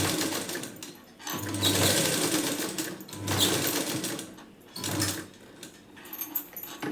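A sewing machine stitches the front of a blouse in three bursts of rapid needle clatter with short pauses between, close and fairly loud.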